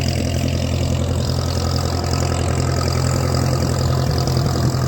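A Jinma wood chipper's engine idles nearby with a steady, even low hum and rumble that does not change throughout.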